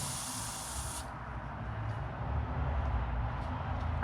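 An airbrush sprays paint onto a small crawfish fishing bait: a steady airy hiss runs continuously, with a brighter burst at the start that cuts off after a second, then a softer constant spray.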